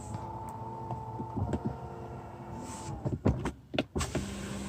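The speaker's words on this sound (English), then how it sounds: "This get one touch power window functions for all windows." Power window motor of a 2021 BMW X7 xDrive 30d with one-touch operation, a steady close whirring hum for about three seconds, then thumps and clicks as the glass seals and a door is handled.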